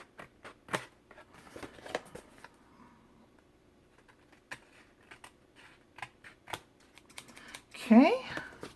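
Scissors snip around the edges of paper being trimmed for a booklet, giving short crisp irregular cuts close by, followed by a brief burst of speech near the end.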